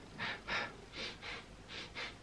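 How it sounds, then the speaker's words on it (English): Quick, shallow, anxious breathing close to the mic: about six short airy breaths in a fast, uneven rhythm, each a brief rasp of air with nothing else around it. "my breath when I get anxious is very, very shallow"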